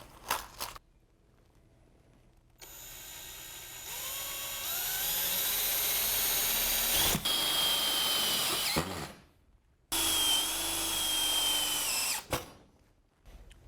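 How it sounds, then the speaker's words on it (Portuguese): A power drill driving screws into an iron tube, several separate bursts of loud, close whining motor that rises and falls in pitch as each screw goes in, with quiet gaps between runs. "aqui nós vamos parafusar"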